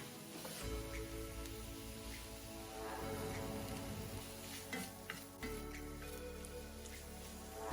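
Sliced cremini mushrooms and garlic cook in a pan, giving a steady, dense sizzle like rain that runs unbroken throughout with no voices.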